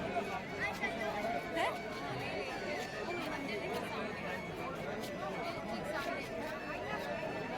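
Crowd chatter at the packed Shri Bhairavnath temple grounds, a steady murmur of many overlapping voices with occasional nearer calls, continuous at moderate level.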